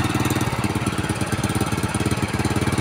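An overheating motorcycle engine runs steadily and close, with a fast, even, throbbing chug and a rough mechanical rattle throughout.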